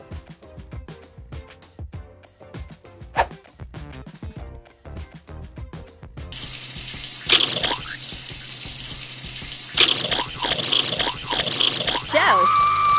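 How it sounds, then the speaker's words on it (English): Water runs from a shower in a student's bathroom, a steady hiss of spray that starts partway through and continues loud and close after a stretch of music and talk. "Would you like to take a nice shower?"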